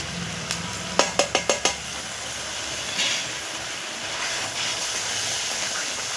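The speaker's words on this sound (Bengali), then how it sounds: "মশলাটা একটু কষে নেবো" Spice masala of turmeric, salt and Kashmiri chili fries in a pan; a quick run of five sharp taps opens, then a steady close sizzle with light stirring continues.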